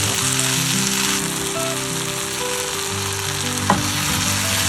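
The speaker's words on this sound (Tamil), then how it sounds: "தக்காளியும் இப்போ வெண்டைக்காய் ரெண்டுமே ஓரளவு நல்லா வதங்கிடுச்சு." Chopped tomato and okra sauté in a hot pan, giving a dense, continuous sizzle and hiss with a brief clink of a utensil near the end, no voices.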